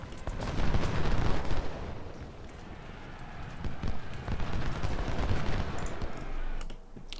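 Dense crackling musket volleys and distant artillery rumble on the Malvern Hill battlefield in Ultimate General: Civil War, a continuous rolling din of many shots with faint talk at moments.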